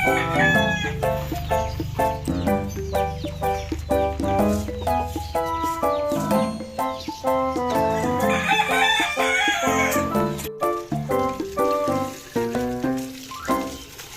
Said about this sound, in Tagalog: ng mga sisiw, mga manok